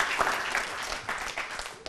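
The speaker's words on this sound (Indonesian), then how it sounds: "ya tepuk tangan." A studio audience claps during a televised political talk show, a short burst of applause lasting about two seconds at moderate volume, with no speech over it.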